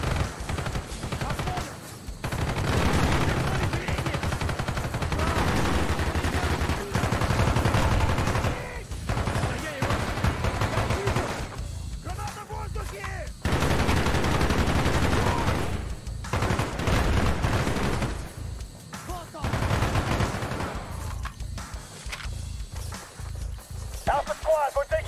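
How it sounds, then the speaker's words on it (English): Gunfire in Call of Duty: Black Ops, with sustained bursts of loud, dense shooting and explosive roars that keep coming with brief lulls, mixed under frequent shouted game dialogue. "we're taking direct fire from the enemy"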